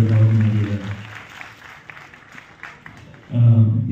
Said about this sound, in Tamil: உங்களுடைய கரகோஷன் இந்த மியூசிஷியன்ஸ் அனைவருக்காக